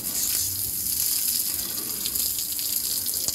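Water rinses clogged mud out of a rooftop garden pot after heavy rain: a steady, close gushing and splashing that runs without pause, with no talking.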